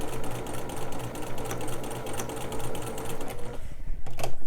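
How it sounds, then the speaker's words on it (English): A sewing machine stitches quilt pieces for a fall harvest quilt in a steady, close, continuous run, its rapid needle chatter holding a constant rhythm before slowing and briefly pausing near the end. "I'm also going to go ahead and just start sewing all the way back just to make sure that I don't miss anything."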